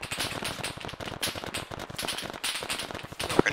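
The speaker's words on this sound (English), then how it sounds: "I got being shot at, but I don't know where from" Crackling gunfire in the military shooter Arma 3 pops and snaps in dense irregular bursts, sharp and fairly close, with no voices over it.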